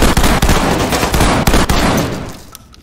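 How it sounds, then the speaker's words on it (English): Gunfire in Ready or Not, aimed at a police shield: rapid, loud, close shots in a dense burst with sharp repeated cracks, fading out at the end. "He's just shooting the police shield."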